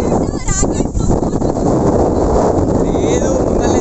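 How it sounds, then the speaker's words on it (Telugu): Strong wind buffets the microphone at the seashore in Kanyakumari, a loud, steady roar with gusty rumble throughout, and faint voices are audible underneath. "ఇంకా గాలి మాత్రం మెల్లిగా మెల్లిగా కొట్టుకుపోయేటట్టు వీస్తుంది"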